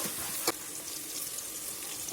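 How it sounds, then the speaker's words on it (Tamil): Onions and curry leaves sizzle and crackle steadily in a hot pan, with a brief scrape of stirring near the start. "கருவேப்பிலை போட்டு வதக்கிறேன்"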